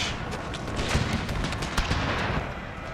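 Artillery firing in a Total War battle set in the Thirty Years' War: a dense, continuous rumble of booms and cracks, fairly loud, with overlapping shots and no voices.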